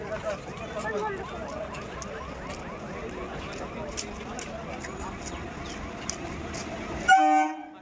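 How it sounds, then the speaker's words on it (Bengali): A train pulls into a station amid a busy platform crowd, with a long rumbling rolling sound under steady chatter, then a loud close horn blast near the end. "তো চলো ট্রেন ঢুকে গেছে, ট্রেনে উঠে পড়ি"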